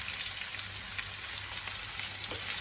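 Two chopped big onions frying in a pan for mochai kuzhambu, a steady close sizzle and crackle with light spitting pops, continuing evenly without talk.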